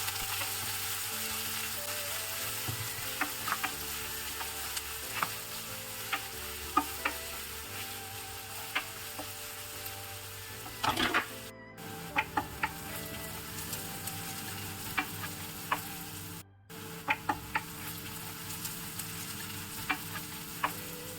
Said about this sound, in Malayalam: ഇപ്പോൾ നമുക്ക് അരിഞ്ഞു വെച്ച ഉള്ളി ചേർക്കാം. നല്ലതുപോലെ ഒന്ന് ഫ്രൈ ചെയ്തെടുക്കാം.